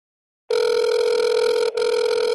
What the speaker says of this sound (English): It's ringing. That's a ring.